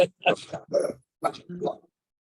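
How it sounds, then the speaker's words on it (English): Several dogs bark and yip in short bursts, close and fairly loud, with brief gaps between the barks. "Hey, quiet over there. My dogs are barking."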